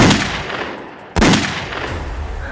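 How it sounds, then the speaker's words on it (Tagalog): A gunshot sound effect in a Filipino action horror story about an aswang: two loud, sharp blasts, each followed by a long echoing roll of reverb across open ground. "alingaw-ngaw ng putok sa kaanahawan"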